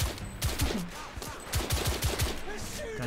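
Rapid bursts of gunfire from The Order video game, sharp repeated shots in an irregular rhythm across the whole stretch, loud and close, with no talk over them.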